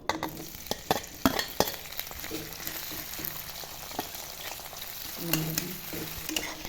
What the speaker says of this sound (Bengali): কড়াইতে তেল দেওয়া হয়ে গেছে, এবার পেঁয়াজগুলো দিয়ে দেবো।